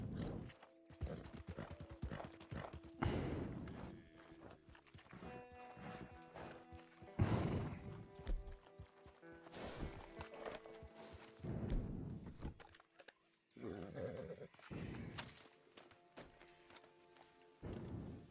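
A horse in a multiplayer Western video game snorts and whinnies amid hoof clops, gear rattles and clunks, with the sounds coming in repeated bursts at moderate loudness.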